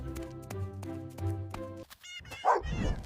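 A dog barks in a few sharp, close bursts that give way to a rough, noisy sound near the end, moderately loud, with no speech.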